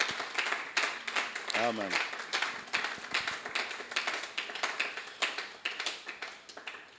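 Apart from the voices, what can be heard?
audience applause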